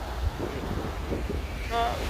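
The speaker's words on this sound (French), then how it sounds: "Nous sommes sur la plage de Tampa. Plus de vagues" Surf washing onto the beach at Tampa on Lombok, a steady broad wash of breaking waves mixed with wind noise, with a faint tonal sound briefly rising near the end.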